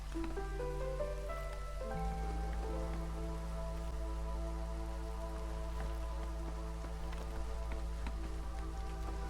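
Steady rain falls in the colony-building game Against the Storm, a constant patter spread evenly over the whole stretch, layered with sustained tonal music notes and no talk.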